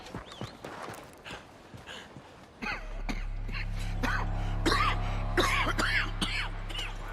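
A Red Dead Redemption 2 character coughs and clears the throat in short, close bursts, followed by a steady low rumble with a few more throaty sounds on top.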